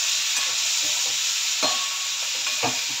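Tomato slices sautéing in a pan with turmeric and red chilli powder for a chutney, giving a steady close sizzle with a few soft stirring scrapes and no talk.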